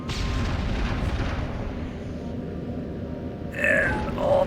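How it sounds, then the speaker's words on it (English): Rockets and missiles explode in the alien shooter game Destroy All Humans, a heavy, rumbling barrage of booms that holds steady, followed by sharper blasts and whooshing near the end. "He's got rockets, he's got other missiles."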